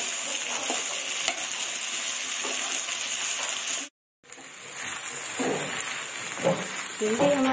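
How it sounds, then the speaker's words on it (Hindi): Okra (bhindi) fries and is stirred in a pan with green chillies, a steady broadband sizzle with scraping stirs, a brief break midway, then sizzling and stirring resume close by. "भिंडी को भी अच्छी तरह से भूनेंगे"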